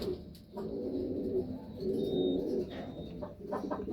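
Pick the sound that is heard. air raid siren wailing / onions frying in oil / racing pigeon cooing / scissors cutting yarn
racing pigeon cooing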